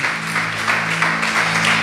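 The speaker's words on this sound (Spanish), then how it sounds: "Den un aplauso fuerte al Señor." Church congregation applauding loudly during a Spanish-language service, dense steady clapping with a low hum underneath, close and sustained throughout.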